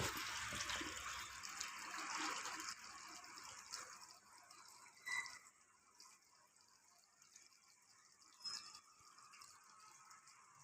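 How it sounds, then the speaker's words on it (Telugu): Water runs and trickles into a new Thomson automatic washing machine as it fills, a faint splashing flow that thins out, with a few soft drips and clicks afterward. "వాటర్ పోసుకుంటుంది."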